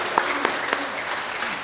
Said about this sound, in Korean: 자, 다시 계속 큰 박수요.